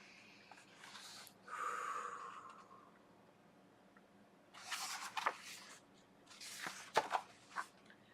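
Slow deep breathing in and out, a few close soft airy inhales and exhales separated by quiet pauses, alone with no talk.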